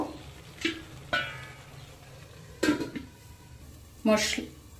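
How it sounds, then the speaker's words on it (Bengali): Spice paste is stirred in a covered pot while cooking, with a few sharp scraping and knocking clicks of a utensil against the pot, separated by quiet pauses over a soft background. "মশলাটাকে এবার একটু ঢেকে ঢেকে তেল ছাড়া পর্যন্ত কষে নেব।"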